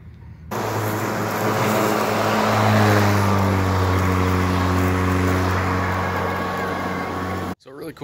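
A Kobalt electric lawn mower runs steadily close by with a smooth, fan-like whirring hum and mild tonal drone, starting and stopping cleanly.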